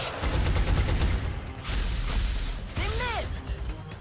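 Overwatch gunfire in the strategy game XCOM: The Long War comes as a loud burst of rapid shots with mechanical clatter and a whooshing sweep, set over a steady game-sound bed.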